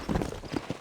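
Horse hooves clip-clopping briefly in the Western video game Red Dead Redemption, a quick irregular patter of hoofbeats heard close and moderately loud.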